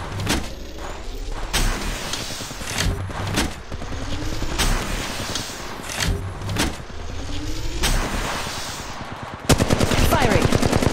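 Rapid bursts of Flatline assault rifle fire in Apex Legends Mobile, several loud close volleys separated by brief pauses, ending in a sustained heavy stream of shots.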